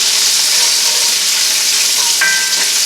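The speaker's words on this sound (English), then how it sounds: "Give my bacon a little stir." Bacon fries loudly in a pan, a dense, constant crackling sizzle close to the mic, with a brief clink as it gets stirred near the end.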